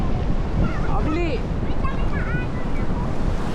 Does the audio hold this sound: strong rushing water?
yes